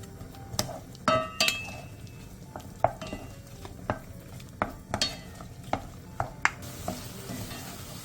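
Seasoning paste of gochujang, chili flakes, plum extract, soy sauce, soju, perilla oil and minced garlic with sliced onion being stir-fried over high heat, with a steady sizzle under repeated sharp scrapes and clinks of a utensil against the pan.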